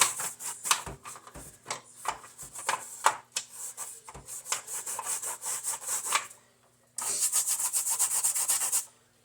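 A plastic 1986 GI Joe Tomahawk toy part is scrubbed under a sink, with quick rhythmic brushing strokes in close, loud bursts, a short pause, then another fast run of scrubbing.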